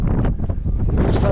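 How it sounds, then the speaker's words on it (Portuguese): Wind buffets a microphone above the Rio Sado at Alcácer do Sal, a loud low rumbling gust throughout the short moment with no clear talk. "hoje está um bocadinho de vento."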